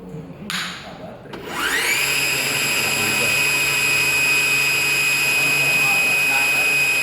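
An electric conversion motorcycle motor spins up under throttle after brief speech, rising into a steady, loud, high-pitched whine with strong tonal harmonics that holds to the end. The motor is fed by battery current through a controller.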